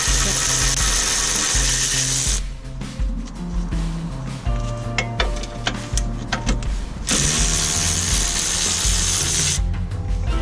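A socket ratchet clicks loudly and rapidly, close to the microphone, while loosening the lower ball joint bolt on an MK3 Toyota Supra MA70. Steady mechanical noise runs under the clicking, and it pauses briefly in the middle before continuing.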